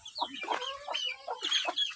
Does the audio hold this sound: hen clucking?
yes